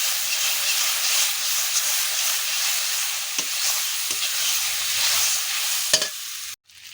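Fish seasoned with salt and turmeric sautéing in a pan, giving a loud, steady broadband hiss and sizzle with a few soft stirring knocks, then cutting off abruptly at the end.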